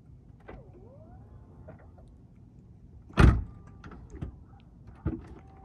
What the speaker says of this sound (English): There's two little buttons right here. You just press it, close the door, close it automatically.